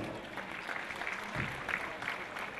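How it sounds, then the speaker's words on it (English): Audience applause welcoming a Catholic priest at a Christmas program, a soft, steady wash of clapping from a crowd heard at some distance, fairly faint and continuous. "Give him a big hand of applause"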